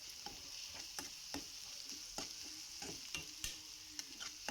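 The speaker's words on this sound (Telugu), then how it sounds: "ఉల్లిపాయ ముక్కలు అల్లం ఉల్లిపాయ పేస్ట్ ఇలా బాగా ఫ్రై చేయాలి" Onion pieces and ginger-onion paste fry in a pan with a soft, continuous sizzle, punctuated by regular scraping stirs roughly every half second to second, fairly quiet and close with no talk.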